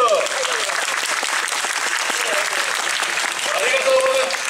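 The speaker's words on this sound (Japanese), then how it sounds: "はい、拍手拍手" Sustained applause from an outdoor crowd at an Awa Odori dance festival in Koenji, Tokyo, dense steady clapping filling the whole stretch with a few voices calling out beneath it.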